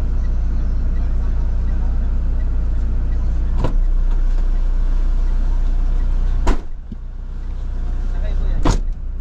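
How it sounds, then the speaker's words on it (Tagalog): Road traffic hums from inside a stuck vehicle, a loud steady engine and road rumble with a few sharp knocks and thuds, including one near the end. "Ipit ako sa traffic"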